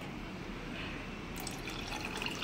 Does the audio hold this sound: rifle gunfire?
no